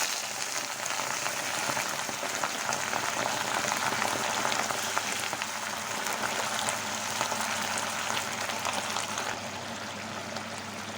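A pot of gravy for a bitter gourd, potato and eggplant chorchori boils steadily, with a dense, continuous bubbling hiss that stays even from start to finish, with no voices.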